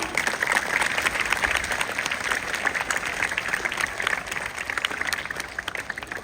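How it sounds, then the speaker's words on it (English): A school audience at a commerce and French week event applauds the participants, with continuous, dense clapping from a large crowd that stays steady and fairly loud throughout. "everybody must encourage and motivate the participants with a huge round of applause"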